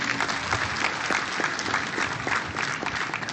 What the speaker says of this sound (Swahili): mpigie makofi jameni